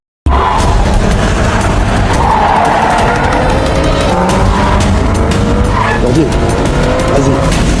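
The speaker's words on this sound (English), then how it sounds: "Mary found out about their plan through CCTV cameras and immediately gave chase." Cars in a chase, loud tire squeals and skidding over a roaring engine after a sudden start, with screeching bursts scattered across the stretch and a voice speaking over the action.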